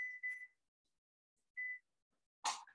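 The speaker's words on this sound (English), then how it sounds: "so I'm going to turn off the timer" Kitchen timer being switched off, giving three short electronic beeps spaced apart, the last one harsher and broader, in an otherwise quiet kitchen where cakes are baking.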